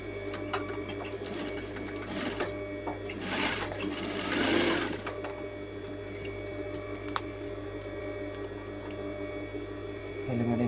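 Sewing machine stitching a coat collar, giving a steady, fairly soft whir over a constant electrical hum, with short bursts of faster running.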